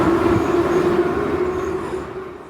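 A train pulling away abruptly from a station stop in Armenia, a loud steady rumble with a tonal hum that slowly fades as the carriage speeds off, close and without speech.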